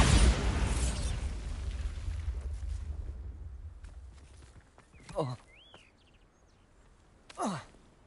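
A Bombarda spell explosion erupts as a loud, broad blast that rumbles and fades away over a few seconds, followed by quieter scattered effects and brief vocal sounds.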